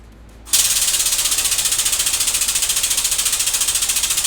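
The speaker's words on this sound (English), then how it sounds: "Let me plug in the air compressor, get ready for the sound of it filling its tank up." An air compressor kicks on abruptly after a short quiet moment and runs loud and close, filling its tank with a steady hissing drone and a fast regular pulsing chug from the pump.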